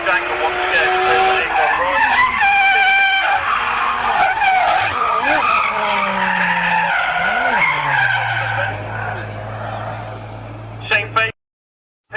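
Drift cars at a Castle Combe drift action day slide with long, loud tyre squeals over revving engines, several screeching passes overlapping before the noise drops away abruptly at the end.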